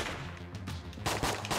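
A bullet gun fires rapidly in the video game Enter the Gungeon, with dense overlapping shot bursts that continue without a break and grow louder toward the end, over game sound.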